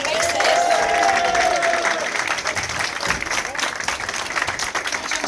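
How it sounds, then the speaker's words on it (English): Sustained audience applause at a Belle Vue speedway press conference, dense and steady clapping throughout, with a brief tonal whine early on and some crowd noise mixed in. "Let's have another big round of applause for our boys"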